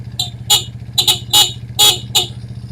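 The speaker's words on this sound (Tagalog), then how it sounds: "Kahit nakapatay yung ilaw, may busina tayo" A small motorcycle horn, on a battery-less bike, gives six short, sharp toots in quick, irregular succession over a steady low engine hum, loud and close.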